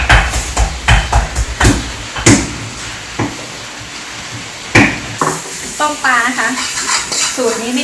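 Fish caught from a pond being deep-fried in hot oil in a home kitchen: a steady sizzle sits under sharp, close clanks and scrapes of a utensil against the pan, with a short stretch of voice near the end.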